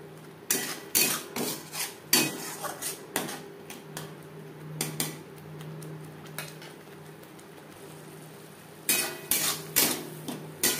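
Spices for a spicy potato curry stirred in a pan, with bursts of clattering spatula strikes on metal, then a quieter stretch of low sizzling, then more knocking near the end, close and without voices.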